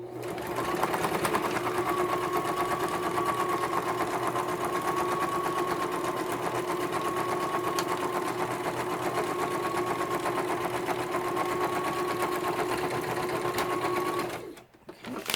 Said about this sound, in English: we're going to bring the sewing machine over, try and bring it over where you can see it, and then I'm just going to kind of eyeball it and go down the middle here and sew it together